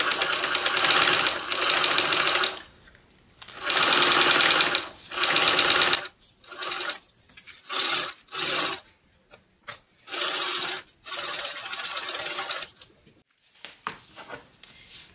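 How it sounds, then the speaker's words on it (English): A YAMATA 1341 sewing machine runs in loud, close bursts of rapid stitching on a seam, starting and stopping repeatedly with short pauses between runs. "Today I'm sewing on my baby, YAMATA 1341."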